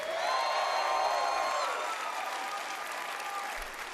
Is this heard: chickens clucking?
no